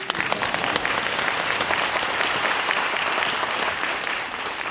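An audience at a political talk event breaks into sustained applause, a dense, even clatter of many hands that stays steady for several seconds before easing slightly at the end.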